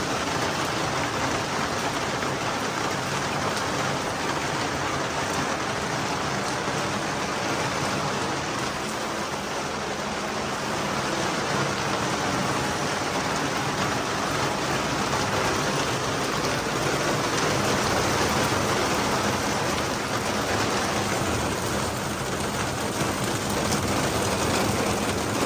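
Heavy, steady rain falling on surfaces in a village setting, a dense continuous hiss of drops close by throughout, with no voices.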